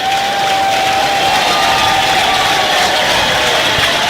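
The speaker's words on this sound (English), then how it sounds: "Fans are cheering here because the Texas Longhorns are eliminated." Fans cheer and roar as a sustained wash of crowd noise at a college baseball regional game between Creighton and Arkansas in Fayetteville, with a steady whistle-like tone running through the din and no clear talk above it.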